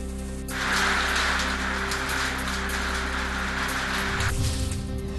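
Hail and rain falling in a windy storm in Barshi taluka, Solapur district: a dense, hissing patter that starts abruptly, stays loud and steady for a few seconds, then drops away to a low rumble.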